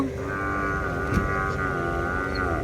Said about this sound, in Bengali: এই গরুগুলো আমাদের দিকে তেড়ে তেড়ে আসছে